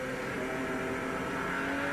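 Onboard the Denon Audio Ferrari Spice race car driven by David Tennyson at the 1991 Grand Prix of Palm Beach, a steady, close engine drone held under caution, alone without talk.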